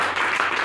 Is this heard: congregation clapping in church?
yes